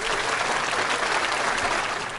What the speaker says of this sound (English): Hit the applause woohoo!